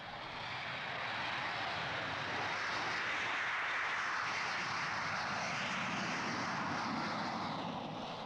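Boeing 747 engines running on an airport tarmac, a loud continuous broadband roar that holds steady across the whole stretch with no talking.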